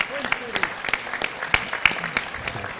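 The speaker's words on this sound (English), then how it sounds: "Give yourselves a round of applause." Scattered clapping from an audience at a boxing hall of fame induction, uneven individual claps rather than a full ovation, with a voice murmuring alongside.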